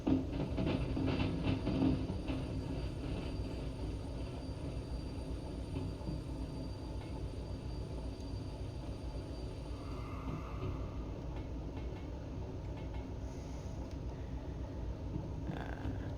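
A locomotive in the train game Derail Valley hauls a logistics train with a steady, dense rolling rumble and track noise. It holds constant and close throughout, with a slight easing after the first couple of seconds and no talk over it.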